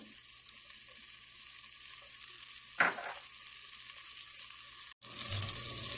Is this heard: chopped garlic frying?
yes